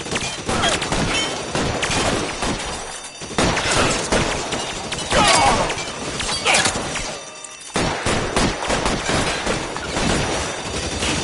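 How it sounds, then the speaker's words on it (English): Continuous gunfire from a shootout in the video game L.A. Noire, dense loud bursts of shots and impacts with brief gaps, close and sustained throughout. "Lay down some fire."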